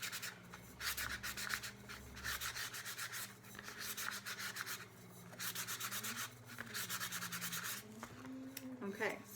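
Glitter-coated cup being sanded up and down, a rhythmic scratchy rasp in repeated strokes with brief pauses, over a low steady background hum.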